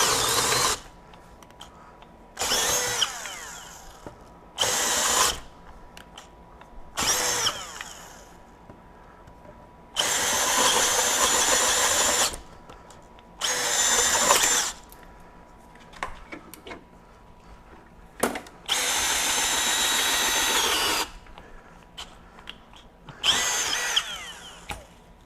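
A Gen 3 Milwaukee M12 FUEL hammer drill driver drills in loud bursts of several seconds each, repeated about eight times with short pauses between, working close up with no talking.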